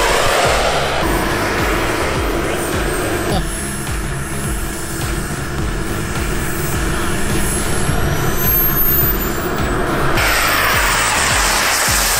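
A Kingtech 102 turbine engine on a Boomerang Ranger RC model jet, a loud continuous whining jet roar with a high-pitched tone, shifting in level partway through as the throttle changes, close by and alone.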